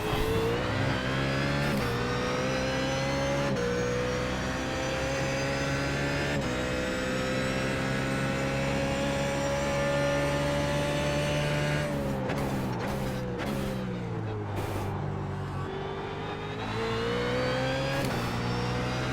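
BMW Z4 GT3 race car engine at Sebring in iRacing, a loud sustained roar climbing in pitch through a gear, with quick upshift breaks and revs rising and falling near the end.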